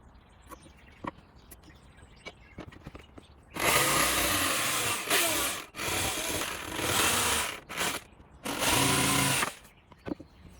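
Power saw cutting notches into a wooden board for a simple planter box, loud sustained whining bursts of several seconds each with short pauses, after quieter tapping and handling noises, no talking.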